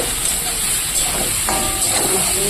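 Fish fries in hot oil in a kadai, giving a constant bright hiss with faint crackles, close and steady, with no voices.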